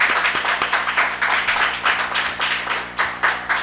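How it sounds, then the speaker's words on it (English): Audience applause at a speech festival session in Grenada, a steady patter of hand claps from a modest crowd in a hall, with individual claps distinct and even in level throughout, no talking. "Let's give them a round of applause."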